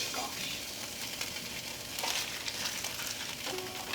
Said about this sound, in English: Very sizzly.